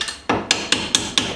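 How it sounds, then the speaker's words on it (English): A hammer strikes a punch tip to drive out the brake pad pins on a C7 StingRay Z51 Corvette, six sharp metallic blows in a steady, evenly spaced rhythm, loud and close with no talk. "that way you can actually hit it here with your hammer."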